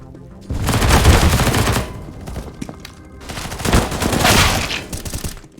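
Flashbang and grenade bursts amid rapid gunfire in a tactical shooter playtest, two dense loud bursts of popping and crackling blasts separated by a brief lull, with no voice over them.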